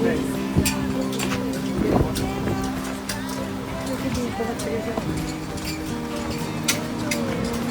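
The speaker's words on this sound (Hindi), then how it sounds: "हवा भी बहुत तेज है, पेड़ कैसे चल रहा है, बहुत हवा चल रही है" Gusting wind on Maui, Hawaii buffets the microphone with low rumbling, while a person talks over it and scattered clicks and knocks sound nearby.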